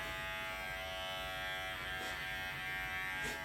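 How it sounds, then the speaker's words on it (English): Electric hair clipper running steadily as it is drawn across the top of a dog's head during grooming, a close, continuous buzzing hum with slight shifts in pitch as the blades drag through the fur. "I'm going to take my clipper and drag it across the top of his head"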